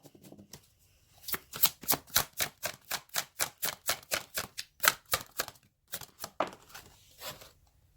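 Tarot cards are drawn and handled in a rapid run of about twenty crisp, even flicks as the deck is riffled, close up, with a brief pause and a few final snaps near the end.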